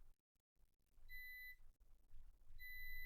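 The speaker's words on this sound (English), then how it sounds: "I'm getting beeps there." A multimeter in continuity mode beeps while probing a via on a grubby MacBook Pro Retina logic board with a no-power fault: two steady electronic tones of about half a second each, separated by a short gap, over low background hum.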